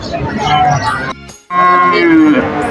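Cows moo at a busy rural cattle market, several drawn-out calls rising over a murmuring crowd and background chatter, with a brief quiet gap midway before another loud, close moo.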